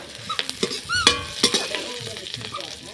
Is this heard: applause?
no